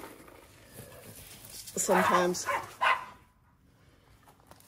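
Dogs barking and squabbling indoors in a short, loud burst of overlapping barks and yelps, with a person talking before and after.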